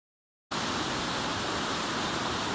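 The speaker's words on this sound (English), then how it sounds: "So here's the river as it comes down." A river rushes down a tight, narrow canyon where the current runs deep and strong, heard as a steady, loud broadband roar of water that cuts in abruptly and continues unbroken.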